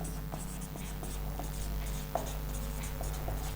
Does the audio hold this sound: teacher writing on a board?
yes